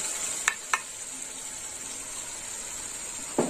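Tamarind pulp, boiled and mixed with water, poured into hot oil in a pan, giving a faint steady sizzle with a few sharp spatters and crackles, no talking.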